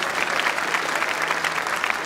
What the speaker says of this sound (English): Could we please get another round of applause for that incredible performance